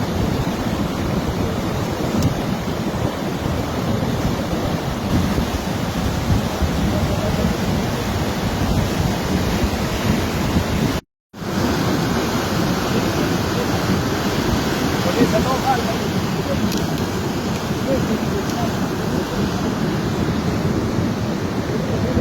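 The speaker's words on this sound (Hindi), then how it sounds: "पानी इस खौफनाक अंदाज में बह रहा है कि इसको तो देखते हुए भी अब चक्कर आते हैं।" Floodwater surges violently past a damaged restaurant and bridge pillars during flooding in Pakistan, a continuous loud roaring rush that holds steady with no pauses beyond one brief dropout.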